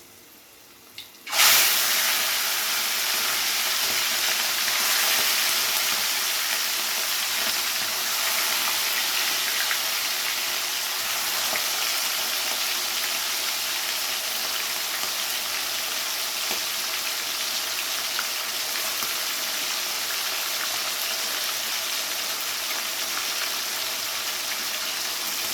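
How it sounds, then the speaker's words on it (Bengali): Prawns hit hot spiced oil with a tempering of split green chillies, bursting into a sudden loud hiss that settles into a dense, continuous sizzle heard up close with no speech. "ফোড়নটা হালকা ভাজা ভাজা হয়ে গেলে এর মধ্যে দিয়ে দিতে হবে চিংড়ি মাছগুলো।"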